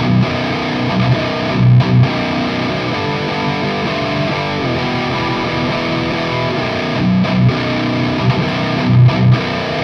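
A loud, heavily distorted electric guitar riff plays through a speaker cabinet impulse response with the low end cut, with sustained chugging chords and brief pauses between phrases.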